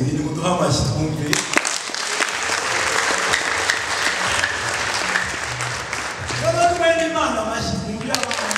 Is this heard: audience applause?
yes